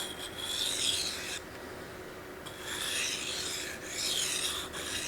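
A knife blade sharpened on a Naniwa Superstone 400 water stone, close gritty rasping strokes in long rhythmic passes separated by brief pauses.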